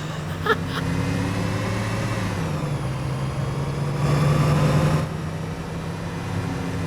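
A bus engine in the OMSI 2 bus simulator idles steadily with a low hum, then its pitch drops as the gear changes and a louder, rougher engine surge follows before it settles, with no talking.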